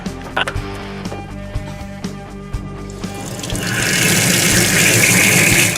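Water drains from a 150-gallon aquarium through a siphon: scattered knocks and handling clatter first, then a steady rushing, splashing flow swells up and continues loudly to the end.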